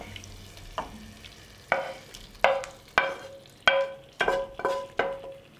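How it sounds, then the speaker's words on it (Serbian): Chicken liver frying in a pan with paprika, tomato paste and water, stirred with a utensil that knocks and scrapes against the pan in a quickening run of sharp, ringing strikes over a soft sizzle, with no talking. "i pržimo sve zajedno dok džigerica ne bude gotova"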